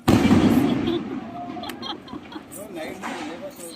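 A 30-shot Diwali firework going off outdoors, with a loud burst and crackle at the start fading into scattered pops and fizzes while people talk over it.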